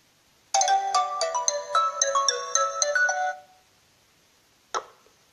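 A telephone ringtone plays a bright, repeating melodic pattern for about three seconds, clear and close, followed by a brief click and silence.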